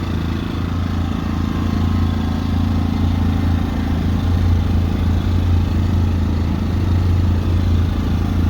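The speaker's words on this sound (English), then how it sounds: "This is turning at a much higher RPM, it sounds like." A portable generator runs close by at a higher RPM, its engine a loud, steady, unbroken drone with a constant low rumble and a faint rattle.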